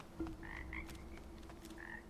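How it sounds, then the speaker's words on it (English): Little frogs croak in the video game Wuchang: Fallen Feathers, giving a few short, chirpy calls over a low ambient hum with no talking. "Little frogs."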